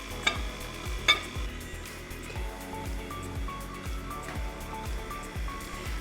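An electric mixer runs through key lime bread batter after whole milk is added, a steady whirring churn with a rhythmic low thump each half second and two brief clinks near the start, close up and without speech.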